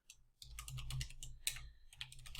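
Rapid typing of an SQL query on a computer keyboard: close, quiet bursts of key clicks after a brief pause at the start, with a short break near the end before the tapping resumes.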